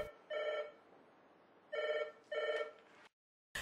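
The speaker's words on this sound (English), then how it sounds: "A phone call alerts the staff about a mini-cyclone in southern Sri Lanka." A telephone rings in a disaster management situation room in Sri Lanka, giving three clear electronic ring bursts with short pauses between them, loud and close, with no talking.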